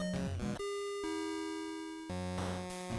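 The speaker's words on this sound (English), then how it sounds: "Was that the doorbell?" A chiptune doorbell in the NES game Maniac Mansion sounds as a few sustained electronic tones that step between pitches, bright and steady, with no voices over it.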